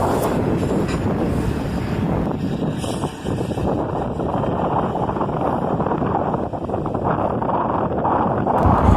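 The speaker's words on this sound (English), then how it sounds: "And the ends of both trains pass at almost the exact same time" Norfolk Southern and CSX freight trains rolling past each other on a bridge, a steady dense rumble and clatter of railcars heard from nearby, heavily buffeted by wind noise on the microphone throughout.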